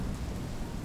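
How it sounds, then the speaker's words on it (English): Steady rain falling, a dense continuous hiss of drops spread across the whole moment at a moderate, even level with no voices. "Is it starting to rain?"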